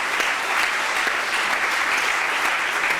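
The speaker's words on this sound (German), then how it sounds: "Sie können ihn ja auf die Bühne klatschen" Steady applause fills a hall at the German Ocean Award 2024 ceremony as winner Boris Herrmann is called on stage, dense even clapping throughout with no break.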